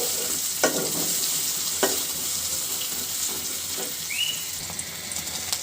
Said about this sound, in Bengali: পেঁয়াজ কাঁচামরিচটা সুন্দর করে ভাজি করে নিব।